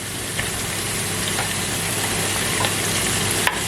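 Chicken pieces browning in a hot pan for a homemade poulet basquaise, giving a steady, dense sizzle that stays even throughout with a few faint clicks.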